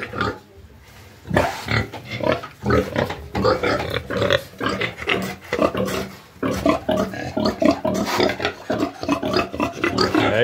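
Pigs on a farm, including a breeding boar, grunt repeatedly in a dense, close, continuous stream of snorts and oinks lasting throughout.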